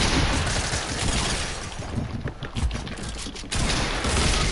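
Grenade launcher fire in a video game comes as a dense, continuous barrage of booming blasts and rapid shots, loud and close throughout with a brief dip partway.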